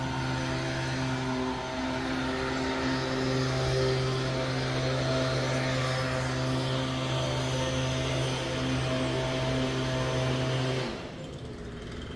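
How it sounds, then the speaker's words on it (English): A leaf blower runs on the grounds of Port Orleans French Quarter resort at Walt Disney World, a steady, loud droning whine held for about eleven seconds before cutting off abruptly. "Sorry for the leaf blower noise."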